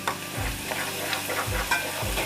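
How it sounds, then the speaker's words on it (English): Chopped garlic frying in a pan with fish sauce and chicken wings, stirred steadily, gives a continuous close sizzle broken by soft scraping strokes, with no talking. "I'm gonna pour my chopped garlic into here. Stir them well together for another 30 seconds"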